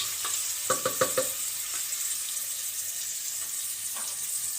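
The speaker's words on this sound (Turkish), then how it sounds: "bunlar sotelenene kadar" Cubed meat sautéing in a pan for a home-cooked stew, giving a steady soft sizzle throughout with a few light clinks of a utensil near the start.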